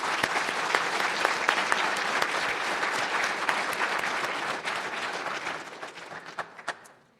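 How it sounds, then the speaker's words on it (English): Full, dense applause from a large audience at the National Academy of Sciences awards ceremony honouring authors of outstanding papers, steady for several seconds, then thinning to a few last claps and fading out. "let's give them a round of applause"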